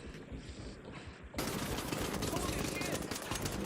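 Rapid automatic gunfire in a video game crackles as a dense, continuous burst, growing louder partway through and staying sustained to the end with no clear pauses.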